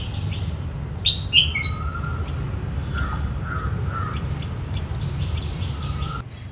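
A pair of bulbuls bathing in a shallow clay water dish in a summer garden, bright chirps and short calls over steady background noise, with a few louder bursts near the start.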